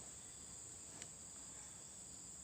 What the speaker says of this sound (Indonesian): nggak usah dengar bunyi-bunyi jangkrik di dekat hutan rimba yang tidak jelas